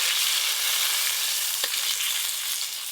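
Potatoes fry in a pan of hot oil with panch phoron (Bengali five-spice) added, giving a steady, dense sizzle throughout with one brief pop near the middle.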